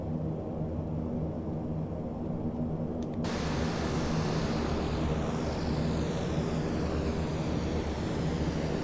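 Steady, loud broadband drone from inside a DHC Dash-7 turboprop airliner in flight on a regional leg, an unbroken engine and airflow roar that brightens and widens after a few seconds, with no voices.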